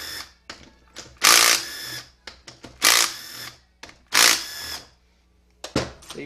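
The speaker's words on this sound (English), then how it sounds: "And remove this 10 millimeter bolt." A 10 millimeter bolt being loosened from a transmission pan on a 09G automatic transmission, with repeated loud ratcheting bursts separated by short pauses and small metallic clicks, close by with no talk.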